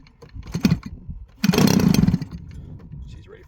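A Hangar 9 20cc gas engine on a P-51 Mustang RC plane, choke on, is flipped over: a short sputtering pop, then a loud burst of engine roar lasting about a second before dropping back to a low idle-like rumble.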